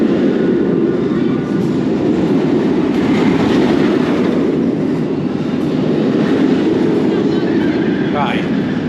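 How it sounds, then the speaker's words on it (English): A roller coaster train at Alton Towers rumbles continuously in a dense, loud mechanical roar, heard fairly close with steady wheel and track noise throughout. "that train is about to go to lift 2"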